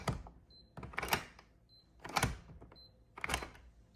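A TEEHO TE002 keyless entry deadbolt gives short, thin electronic beeps among louder mechanical clicks and whirs as the bolt retracts, close and fairly quiet.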